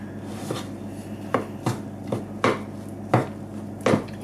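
Rock cake dough being mixed in a bowl: irregular thuds and scrapes, about ten distinct knocks spaced unevenly, close and fairly quiet against a low steady room hum.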